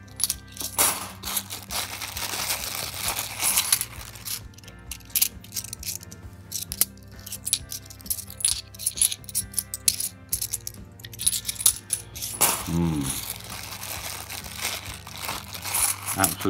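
Coins rattle and clink continuously as they are tipped and sorted from bags during a £2 coin hunt, with crinkling plastic and brief voiced moments between the close metallic jingles.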